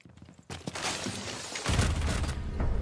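A grenade bursts amid gunfire in a first-person shooter match, opening with scattered crackling shots, then a heavy booming blast that rumbles loudly and continues to the end.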